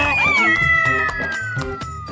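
A cartoon cat gives a loud, drawn-out meow with falling pitch, followed by a run of shorter rhythmic cartoon sound effects.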